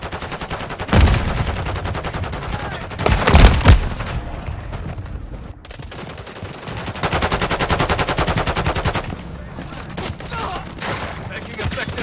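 Automatic gunfire in a Call of Duty Modern Warfare 3 multiplayer match on the Rust map, with loud, rapid bursts of shots and a couple of heavier hits, while voices shout combat callouts.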